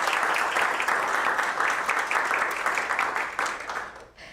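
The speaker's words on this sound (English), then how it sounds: "Please give a round of applause for our Unsung Hero Award finalists" An audience at a live awards announcement applauds the Unsung Hero Award finalists, a dense, sustained wash of clapping that holds steady for several seconds before tapering off.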